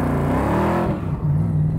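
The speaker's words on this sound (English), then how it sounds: "That was half throttle." A 1965 Backdraft Cobra engine revs at half throttle. A loud, close, continuous roar starts high, dips in pitch and then settles into a steady growl.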